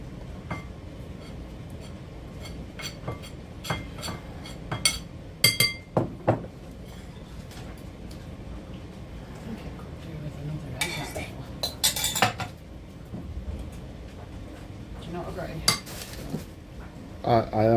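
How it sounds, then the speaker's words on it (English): A utensil scrapes and clinks against a bowl while flour and egg are mixed for a Ripon spice cake, with irregular sharp taps and knocks over a steady low background and no talking. "we're just coming towards the end of the mixing stage with the flour and the egg"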